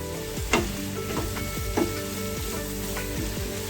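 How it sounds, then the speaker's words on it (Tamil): Diced onion sizzles steadily in a hot pan in a home kitchen, with stirring scrapes and clanks of a utensil against the metal at uneven intervals. "அனியன் கொஞ்சம் வதங்கட்டும்."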